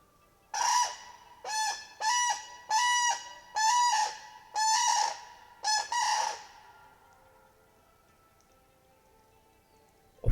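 A lone crane on its own territory gives mating calls: seven loud, resonant honking calls in an even rhythm, close and clear, followed by several seconds of near silence.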